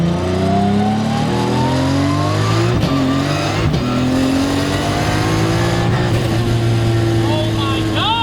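A 1000-horsepower Toyota Supra with a sequential gearbox accelerates hard, its engine note climbing in loud sweeping pulls with sharp gear changes, under excited talk from inside the car.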